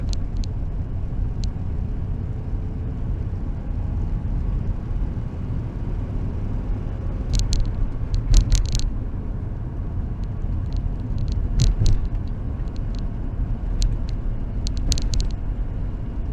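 A 1962 VW T2 bus engine idles in a steady low rumble throughout, with occasional brief metallic clicks and ticks over the constant droning.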